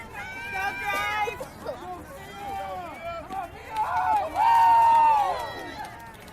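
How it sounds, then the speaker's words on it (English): Spectators at a youth 14U fastpitch softball game cheer and shout in a lively, rising crowd babble, with excited voices swelling loudest near the end. "As you can tell, the crowd is hyped up here."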